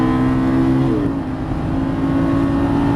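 Lamborghini Gallardo Superleggera LP 570-4 engine on a race track, a loud sustained roar from inside the car whose pitch drops sharply as it shifts up a gear, then climbs steadily again.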